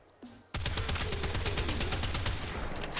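Sustained rapid-fire shooting from the Astilla Prime in Warframe, beginning abruptly after a brief quiet moment and continuing as a loud, dense stream of shots.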